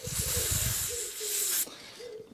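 A close, steady aerosol hiss sprays onto the small screen of a Honda HHH25 hedge trimmer for about a second and a half, then cuts off, with faint rustling and a brief squeak around it.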